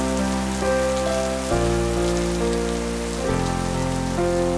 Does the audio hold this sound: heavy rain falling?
yes